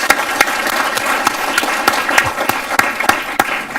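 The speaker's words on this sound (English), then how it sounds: "please stand again so we can give y'all a clap" Audience at a superintendent's citation ceremony applauds to honor parents standing for outstanding students, a steady clapping with sharp individual claps standing out, moderately loud and continuous throughout.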